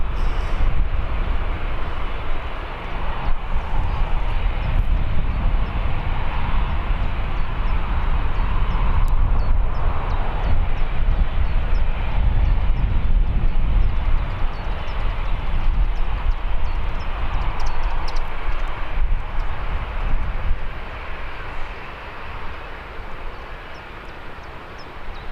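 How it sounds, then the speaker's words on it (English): British Airways airliner taxiing at Birmingham Airport, a long steady engine hum and rumble at moderate distance, fluctuating slightly as it rolls along, with no voices. "Do have Speedbird Airlines making its way up the taxiway"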